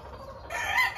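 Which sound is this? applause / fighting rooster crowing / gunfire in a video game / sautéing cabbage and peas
fighting rooster crowing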